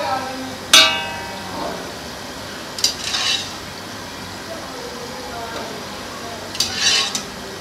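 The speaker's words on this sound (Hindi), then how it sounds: "चनों की हमने भुनाई कर ली है।" Boiled chickpeas being roasted in a pot, with a steady low sizzle and a few sharp scrapes and clinks of a spoon stirring against the metal.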